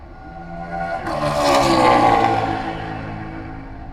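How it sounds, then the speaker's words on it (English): Vintage race cars pass through the kink toward Canada Corner at Road America, a distant engine roar swelling as a car approaches and fades away, with an echoing whoosh across the circuit. "You can hear almost the echo of the cars as they go through the kink and make your way to Canada."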